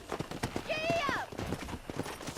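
A horse trots and gallops with steady clip-clop hoofbeats in the Red Dead Redemption video game, letting out one brief rising whinny partway through, with voices talking over the hooves.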